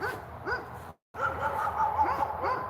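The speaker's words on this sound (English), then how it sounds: "And that's what they're barking at." Dogs bark at a large poodle-like dog in a quiet rural setting, with repeated mid-distance yips and barks overlapping throughout and a brief break in the middle.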